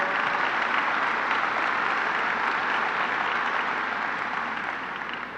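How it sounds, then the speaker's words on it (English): A large audience applauds steadily for a colleague at a New York governor's announcement of construction on the new Moynihan Train Hall, a dense, even wash of clapping that holds throughout and eases slightly at the end. "give Rick Cotton a round of applause"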